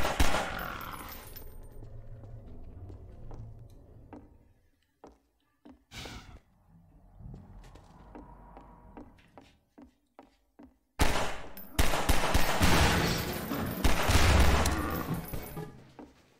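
Bursts of gunfire in the Half-Life 2 VR game, a few sharp isolated shots early on, then a loud sustained volley of rapid fire toward the end, with no talk over it.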